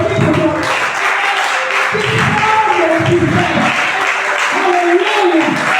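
Congregation applauding during a church service, a steady dense wash of clapping with voices and tonal singing or music rising through it.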